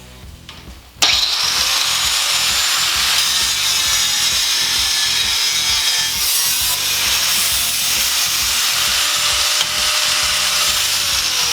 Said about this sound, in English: now let's try to cut this weld around the edge here